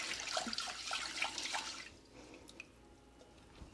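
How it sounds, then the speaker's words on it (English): Plain white rice being rinsed under running water, with a splashy rush for about two seconds before it fades to soft trickles and drips. "Just gonna rinse this a couple times"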